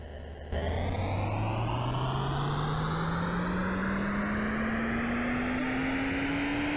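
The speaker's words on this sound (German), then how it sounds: "dann fliegt der Flieger auch schon los" An airplane in a video game spools up its engine with a sudden onset, then a steadily rising drone as it takes off, continuous and fairly loud, with no talk.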